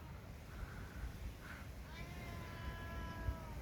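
A cat meows a few times, drawn-out and plaintive, fairly soft over a low background hiss.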